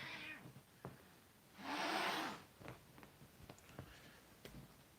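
A house cat stuck to a couch lets out a loud meow mid-clip, with softer scuffs and small sounds around it in a quiet room.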